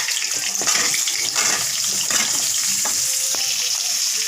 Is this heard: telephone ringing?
no